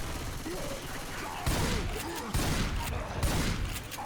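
Gunfire in a video game comes in dense, rapid bursts, with several sharp loud volleys cutting through a steady background of battle noise.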